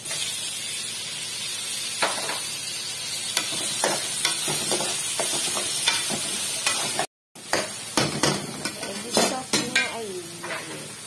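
Tomatoes added to tuna cooking in a pan, steady sizzling with repeated utensil scrapes and clinks, close, with a brief dropout and then livelier stirring.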